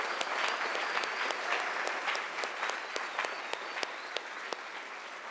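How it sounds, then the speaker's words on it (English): Steady applause from a large audience, dense clapping with a few sharper, louder claps standing out, sustained throughout. "I want to give a big round of applause"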